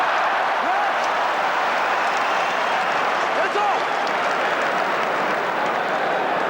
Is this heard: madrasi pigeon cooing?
no